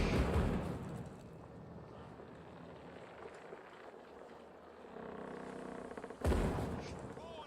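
Cannon and gunfire from the pirate video game Caribbean Legend: a heavy blast opens, a muffled rumble of water and wind follows, and a second loud report lands near the end.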